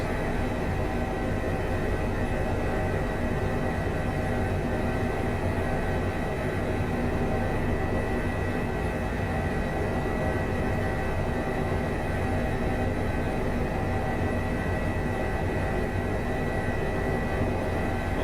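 An Airbus H145 helicopter hover taxiing in Microsoft Flight Simulator, a continuous loud rotor and turbine drone, steady and even throughout with no breaks and no voices.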